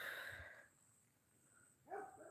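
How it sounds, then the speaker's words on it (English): A dog shut in behind a fence barks during a nature walk, a distant bark at the start and another faint one near the end, with quiet outdoor ambience between. "He's barking because he wants to come, but he can't come."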